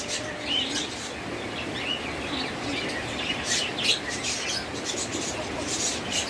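A lutino opaline pair of pet birds at a bird seller's gives repeated short, high chirps and tweets in quick scattered bursts, moderately close, over a steady hiss of background noise with no talking.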